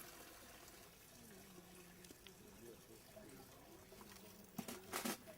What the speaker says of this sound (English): Now drain off half the water.